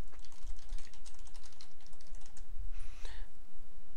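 Rapid keystrokes on a computer keyboard, close and clear, a quick run of typing followed by a short pause and a final burst of keys.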